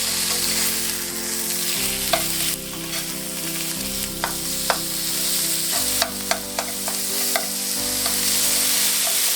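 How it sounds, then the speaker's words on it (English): Lean ground beef, about a third of a pound, sizzles and fries steadily in a pan while a utensil breaks it into chunks, sharp scraping and clacking knocks punctuating the constant hiss. "Now, a 1/3 pound or so of ground beef."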